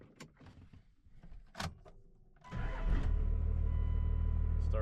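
A 2006 Cummins diesel truck cranks on the key and catches at about 2.5 seconds, settling into a loud, steady rumbling idle after some earlier clicks and clunks.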